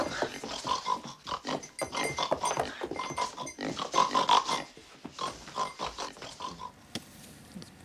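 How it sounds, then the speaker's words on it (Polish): Pigs on a farm grunt, snort and squeal continuously at close range, a dense overlapping herd sound with no talk over it. "Chodźcie! Świniaki! Prosiogli!"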